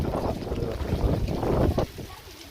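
Strong gusting wind roars during a rainstorm in a village, a loud, close, broadband rush that swells and buffets the microphone before easing off.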